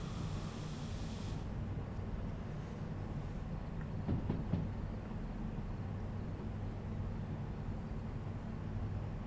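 A freight train rolls steadily on in the Derail Valley video game, a low continuous rumble with a brief hiss early and a few faint metallic clicks midway as the brakes come on; no speech.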